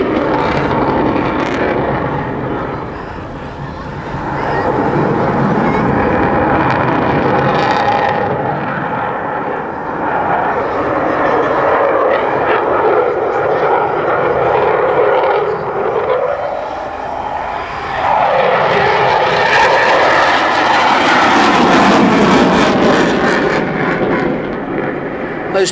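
A Eurofighter Typhoon jet roars through an airshow display with afterburners, a loud sustained rumble swelling and fading as it passes, rising to a bright tearing surge near the end.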